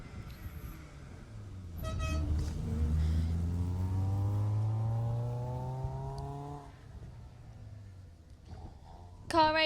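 A rally car rushes past on a closed stage of the Jersey Rally, its engine rising and falling as it passes, with a brief horn beep near the end and faint voices in the background.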